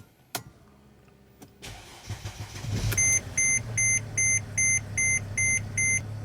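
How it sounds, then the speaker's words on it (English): A Mercedes R320 engine with a sticking turbo actuator cranks and catches, settling into a steady idle while a chime beeps repeatedly in a regular rhythm. "So let's start the engine."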